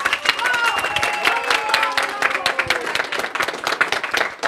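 Applause for an employee at an office award ceremony: a room of people clap steadily and loudly throughout, while a voice speaks over the clapping.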